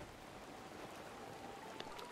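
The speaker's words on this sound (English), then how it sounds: "Oh my god, it's raining." Steady rain falls in a video game, a soft continuous hiss with a few faint droplet taps, quiet and even throughout with no voices.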